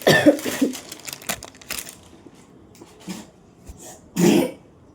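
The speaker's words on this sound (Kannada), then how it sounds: "ಮನೆಯೊಳಗೆ ಎಲ್ಲಾರ್ಗು ಕೆಮ್ಮು" A few harsh coughs ring out nearby, one burst at the start and another stronger one near the end, separated by quieter rustling.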